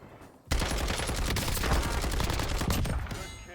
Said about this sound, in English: from what I can tell from the sounds of those gunshots